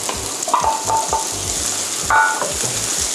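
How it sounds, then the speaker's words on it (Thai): Sweet pepper and zucchini stir-fried with mushrooms in hot oil for crab stick udon, a steady sizzle with several scraping stir strokes of a utensil against the pan, close and fairly loud, no voices. "ผัดให้พอผักสลดนะคะ"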